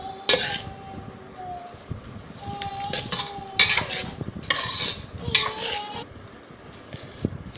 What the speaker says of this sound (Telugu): ఇవన్నీ వేసి కలుపుకుందాం